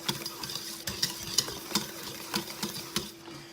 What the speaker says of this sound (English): You're just going to whisk that until it's all combined.